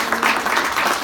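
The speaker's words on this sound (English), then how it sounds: "give them a round of applause, please." Audience applause at a City of Jackson Islamic Heritage Month celebration in a museum: a steady, dense wash of many hands clapping at once, fairly close and continuous for about a second.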